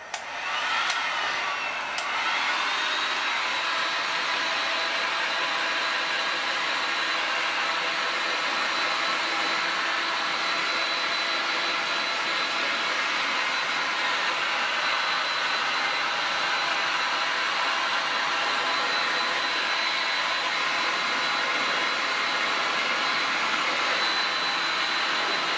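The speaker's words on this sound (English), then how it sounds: "So we'll just do this with a hot air gun now, and keep it moving, and it should shrink fine." A hot air gun blows steadily for the whole stretch, a constant loud whooshing hiss with a faint whine as it shrinks laminating film over a vintage model plane covered in tissue. No one speaks.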